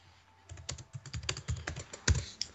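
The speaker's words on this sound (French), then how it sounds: "Il a tapé des trucs sur son clavier et ça ne présage rien de bon." Rapid typing on a computer keyboard during a Minecraft session, a steady patter of key clicks with a few harder strokes, close and clear with no talking over it.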